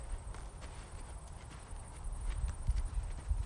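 A horse walks on the ground during confidence-building groundwork, its hoof falls soft and irregular against a low, rumbling background that grows slightly louder toward the end.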